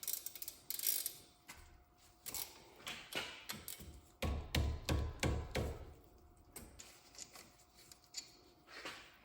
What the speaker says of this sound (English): Now we got our 14mm wrench right here.